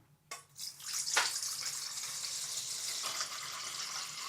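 Water pours steadily into a bowl to make a soaking brine for cut-up rabbit pieces, starting abruptly as a close, continuous splashing hiss that keeps flowing to the end.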